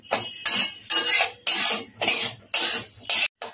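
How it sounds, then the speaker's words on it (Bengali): Vermicelli (simui) being lightly fried and stirred in a pan, heard as a steady run of loud, rhythmic scraping and rustling strokes, roughly two per second, close up and without speech. "সিমুইটাকে একটু হালকা করে ভেজে নিই।"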